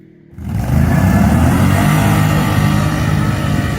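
Can-Am Renegade 570 and Outlander 570 ATVs drag race uphill, their engines roaring up suddenly after a quiet moment and holding a loud, steady, rough drone as they accelerate.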